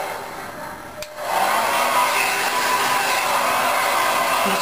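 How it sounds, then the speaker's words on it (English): Blow dryer drying damp hair with the nozzle off, starting as a softer hum, a brief click near the first second, then a loud steady rushing whoosh of air that continues to the end. "I'm just going to get a little bit of the moisture out with the blow dryer"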